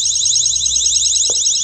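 An alarm sounds with a loud, continuous high-pitched warbling tone, steady throughout, with a faint low hum and a brief knock underneath and no talk.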